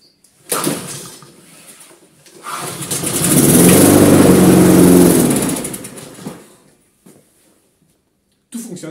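A repaired lawn mower engine, rescued from a dump, cranks and starts, running loudly for a couple of seconds before cutting out, with a brief knock at the start and end.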